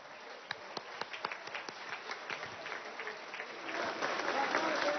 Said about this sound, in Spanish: esto hay que recibirlo parado y con un aplauso